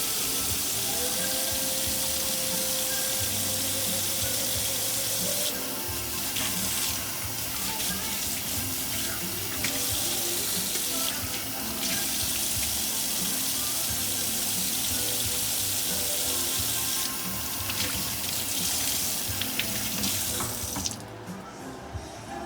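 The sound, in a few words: washing hands under running tap water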